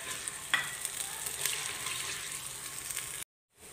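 Onion frying in a pan with garlic and ginger, a continuous close sizzle with a faint stir near the start, cutting out abruptly at the end.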